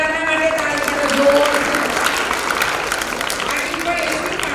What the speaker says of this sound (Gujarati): અરે વાહ, બધાના માટે તાળી કરજો.